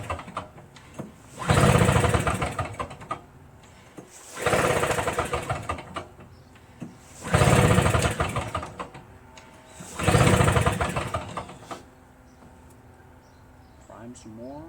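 A Briggs & Stratton 13.5 flathead engine on a choked MTD Cub Cadet lawn tractor cranks in four separate attempts, each a loud, roughly two-second rattling churn followed by quieter pauses with faint talk.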